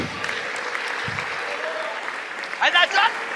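A church congregation clapping at an evangelist's call, a short burst of applause rising near the end after a stretch of quieter room noise.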